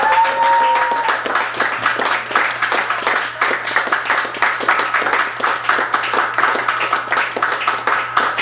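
An audience at a gallery show claps steadily, individual hand claps clearly audible in a loose rhythm throughout, with a brief tonal sound at the start fading under the ongoing applause.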